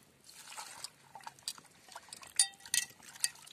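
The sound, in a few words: mutton being washed in water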